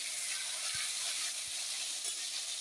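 Chopped tomatoes with nigella seeds fry in a pan and are stirred, giving a steady close sizzle and hiss with a couple of soft low knocks from the utensil.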